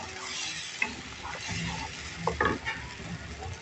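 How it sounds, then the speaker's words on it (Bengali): Spice paste frying in oil for a tilapia and pointed gourd curry, a soft steady sizzle with a few scraping stirs of a spoon against the pan, close and fairly quiet. "মশলাটা কষানো হয়ে গেছে বন্ধুরা দেখো তেল উঠে গেছে সাইডের দিক থেকে"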